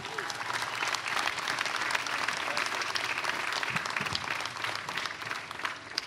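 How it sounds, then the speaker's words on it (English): Sustained, dense applause from a large crowd at an outdoor fireworks event keeps a steady level throughout, with no break in the clapping. "Mayor Buddy Dyer, give him one more round of applause as he gets us going."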